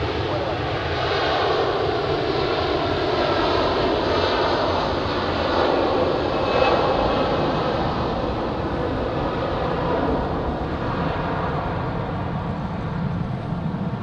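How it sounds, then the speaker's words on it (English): An airliner bound for Athens spools up its jet engines at Zurich Airport, a steady broadband roar rising and holding throughout, with a faint voice in the background. "the one to Athens is now spooling up"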